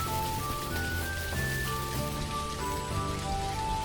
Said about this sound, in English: Hopefully they're not minding all of the rain that's happening.